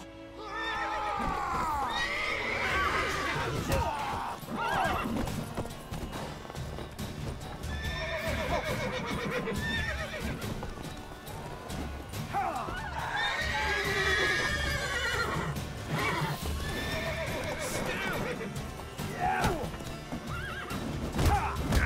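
Several horses whinny and neigh repeatedly over clattering hooves, a busy, continuous commotion with rising and falling calls, in the video game The Witcher 3.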